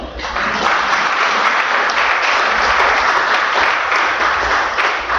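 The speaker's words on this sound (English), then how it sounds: "you are free to clap" A church congregation applauds, producing a steady, loud wash of clapping that holds for about five seconds without pause.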